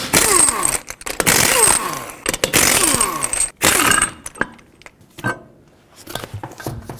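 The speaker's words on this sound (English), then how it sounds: "With a 21mm socket, remove all 5 of your lug nuts and then take off the wheel." An impact tool with a 21mm socket removes the lug nuts from a 2002-06 Toyota Camry's front wheel, loud rattling bursts of hammering separated by brief pauses, then clinks of metal parts as it quiets down.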